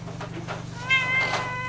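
A cat at an animal shelter gives a single drawn-out meow, fairly close, over a steady low electrical hum.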